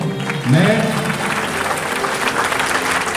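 A crowd claps steadily, a dense wash of applause continuing throughout, with a brief voice rising near the start.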